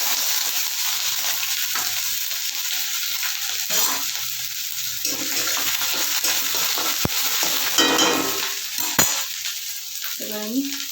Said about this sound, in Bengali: আদা কুচি দিচ্ছি